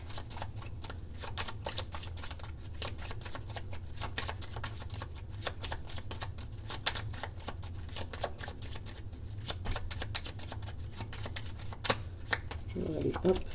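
Tarot cards are shuffled and handled in steady, rapid crisp flicks and riffles close by, continuing throughout under a low hum, with a voice speaking intermittently over them.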